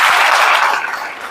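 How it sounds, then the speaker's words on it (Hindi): An audience bursts into short, bright applause at a business leaders' talk, with a dense patter of many hands clapping that fades slightly toward the end. "एक बार तालियां बनती है इसके लिए"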